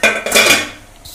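Metal dhokla tray of besan batter set into a steamer pot of boiling water in a kitchen, a sharp, close metallic clank followed by a ringing scrape that fades within a second.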